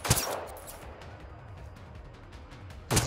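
Gunshots in Generation Zero ring out as sharp, close reports at the start and again at the end, with quieter rumbling game ambience between them.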